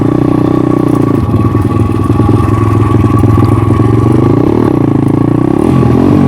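A motorcycle engine pulls hard and close up, a loud steady drone that dips and rises as it shifts through the gears, with rough clattering texture and no speech.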